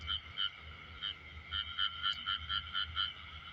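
Frogs croak at night near rice paddies, a pulsing chorus of repeated calls in rhythmic bursts over low background noise, with no voices.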